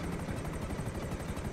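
Cargobob helicopter in GTA Online, a steady close rotor thrum with a rapid rhythmic chop and a continuous engine whine, holding level for its short length with no voices.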